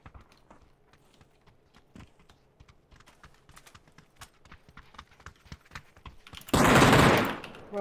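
Gunfire in PUBG on the Miramar desert map: a sparse patter of light clicks and taps gives way to a single loud, sustained burst of shots near the end.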